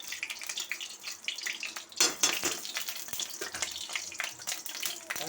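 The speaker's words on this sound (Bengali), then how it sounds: "কড়াই তেল দিচ্ছি, কালো জিরে" Nigella seeds sizzle in oil in a wok, a crackling, hissing fry with a few louder pops and clinks, close and continuous.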